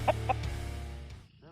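An aggressive adolescent rooster gives two short, sharp clucks up close, followed by a low rumbling hum and a brief scuffle at the end.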